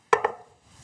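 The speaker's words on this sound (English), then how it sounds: "You see how I'm just dicing it small? I'm using this little utility knife." A small utility knife dices onion on a cutting board in two quick, crisp chops close up, followed by a short quiet tail.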